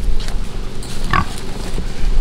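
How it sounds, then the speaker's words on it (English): Pigs grunt on a farm, with low snorting grunts close by and a brief sharper squeal midway over rustling and background noise. "I'll get these other pigs"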